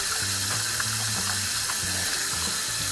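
Water streams steadily from a tap fitted with an LED faucet light into a sink, a constant hissing splash with some faint clinking sounds, no speech.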